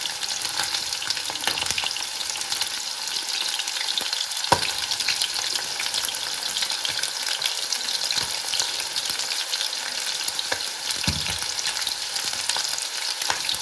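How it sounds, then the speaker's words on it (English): Chilli chicken fries in hot oil with a continuous dense sizzle and crackle, steady and close throughout, with a few sharper pops and stirring knocks and no talking. "we continue frying it for some time till it's golden brown"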